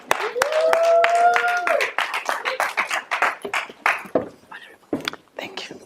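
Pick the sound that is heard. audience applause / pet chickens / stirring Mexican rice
audience applause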